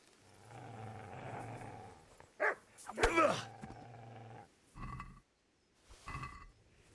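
A dog barks in a video game, a few sharp barks and growl-like bursts over steady game music, with a voice talking in between.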